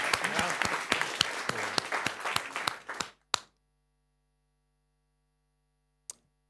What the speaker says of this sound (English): I guess we can give our speaker another round of applause.